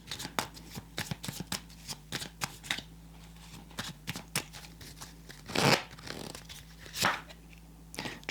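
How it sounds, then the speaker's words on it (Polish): Repeated crisp riffles and slaps of a tarot card deck being shuffled up close, in quick bursts with short pauses, no talking. "Teraz wyciągniemy kolejną kartę"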